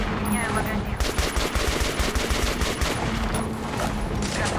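Sustained automatic gunfire from the video game Metro Last Light, with rapid, dense bursts of shots repeating steadily and loudly throughout, and no pause or speech over it.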